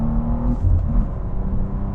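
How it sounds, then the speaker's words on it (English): A BMW M2 engine gives a quick rev-matching blip on a downshift, a short burst of rising engine note over a steady low rumble, close and moderately loud. "I really like the auto blip feature on this, so when you drop it down, it rev matches"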